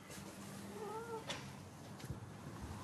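A Sphynx cat at a veterinary clinic gives one faint, drawn-out meow partway through, with quiet room noise and a few soft knocks around it.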